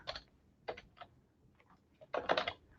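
Quiet clicking of a computer keyboard as a search is typed, a few scattered keystroke bursts followed by a quicker flurry of taps, close up with no talking.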